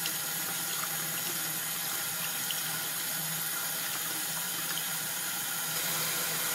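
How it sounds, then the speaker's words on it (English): Tap water running steadily into a sink while a makeup brush is rinsed of detergent and product, a loud, continuous broadband splashing rush that holds level throughout. "And here I am washing the detergent off as well as the product."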